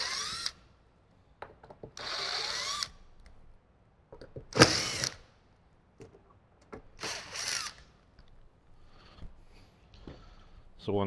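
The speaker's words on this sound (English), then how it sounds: "grab your T20 Torx and just remove those 4 screws" A T20 Torx power driver spinning out four screws in a Jeep JL during a speaker system installation, several short whirring bursts separated by pauses and small clicks and handling noises.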